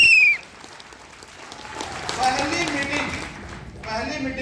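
An audience claps at a Hindi-language gathering, a diffuse patter of hands rising and falling for a few seconds after a brief whistle-like tone, with voices mixed faintly underneath.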